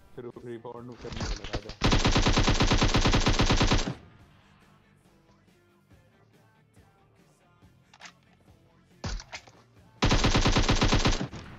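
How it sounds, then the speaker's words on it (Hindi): Bursts of rapid gunfire from an MK14 rifle in PUBG Mobile, loud sustained volleys separated by a quieter stretch with a few isolated shots. "ये जो एम के चौदह की बस एक गोली चलने की आवाज़ आती है"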